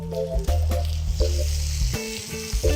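Duck pieces searing in olive oil in a pan that is not very hot, a steady close sizzle with bursts of crackling as pieces settle and are moved, no talking.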